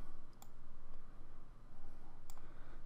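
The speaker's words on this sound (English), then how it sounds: "I'm going to just click on one to pick one." Two sharp, close computer mouse clicks ring out about two seconds apart over a low steady hum while picking a calendar in Outlook 2016.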